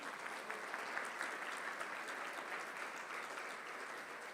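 A church congregation at a Spanish-language sermon gives sustained, even applause, a dense wash of many hands clapping heard at a moderate distance with no speech over it.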